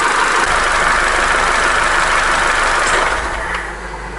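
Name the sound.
Opel Corsa D A14XER engine idling with knock during warm-up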